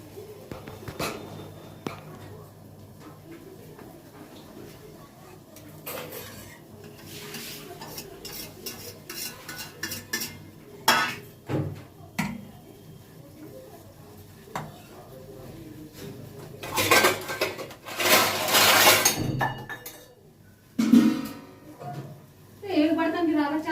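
Metal cooking pots and utensils clatter and clank in a home kitchen during saag preparation, with irregular loud bangs and scrapes, some bursts near and sharp, while people talk throughout.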